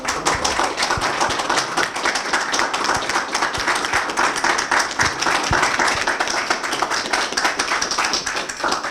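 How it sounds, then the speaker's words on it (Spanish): Lively applause at a university mathematics department tribute ceremony: many hands clapping with crisp individual claps standing out, loud and continuous for several seconds. "Con este caluroso aplauso"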